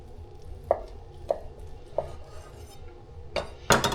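A knife cuts through a smoked sun-dried tomato chicken roulade with a pecan crust. Three soft, evenly spaced slicing taps come first, then a louder crisp crunch and a clatter at the end, all close by with no talking.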